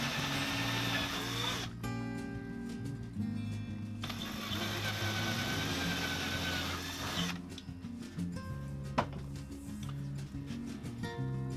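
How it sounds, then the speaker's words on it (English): A power drill whirs in bursts, stopping and starting several times, with a strained grinding tone as it bores into a wall for a surface-mounted socket outlet. "So then just a nice easy, not too much pressure on the drill"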